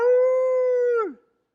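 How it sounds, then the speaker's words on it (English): A single drawn-out hound howl holds a steady pitch for about a second, then slides downward and fades out abruptly. "the hound dog loves to howl"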